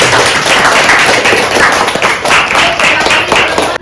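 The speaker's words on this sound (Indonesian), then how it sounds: "Tepuk tangan untuk teman-teman." A class audience applauds after a lecture, a dense, loud wash of many hands clapping that stays steady throughout with no talking over it.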